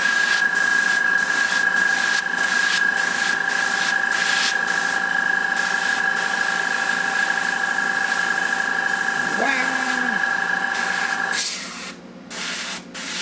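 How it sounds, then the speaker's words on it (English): Steady hissing spray of an airbrush runs continuously with a faint motor hum, briefly pausing near the end. "I'm just airbrushing."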